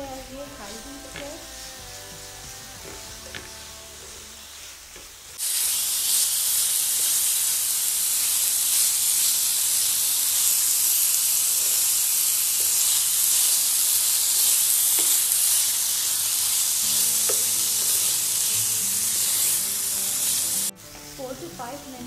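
Thinly cut beef hits a pan on medium-high heat and sizzles loudly and steadily for about fifteen seconds, a bright continuous hiss that stops abruptly, with quieter kitchen sounds before and after.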